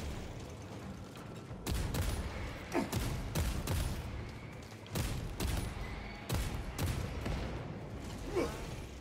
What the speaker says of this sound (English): Here, these guys shooting me.